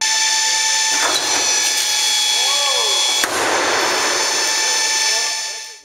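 A Boeing 737 engine with its thrust reverser deployed on the runway roars loudly and steadily, with a sharp pop near the middle and a broad whooshing rush that carries on until it fades out at the end.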